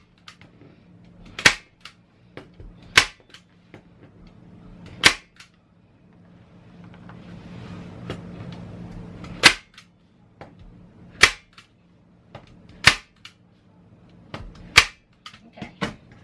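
A staple gun fires staples one by one through fabric into a homemade display board, about a dozen sharp snapping clacks at irregular intervals, with quiet rustling of fabric being pulled between shots.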